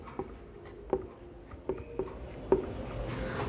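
Pen strokes and taps on paper come in a series of short, distinct scratches and clicks, close and fairly quiet, during a Bengali life science lesson on plant hormones.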